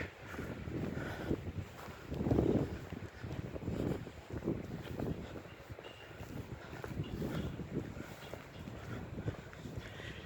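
Night wind gusting steadily through a cemetery, a rough, rumbling roar that swells and eases in waves, close to the mic, with no talking.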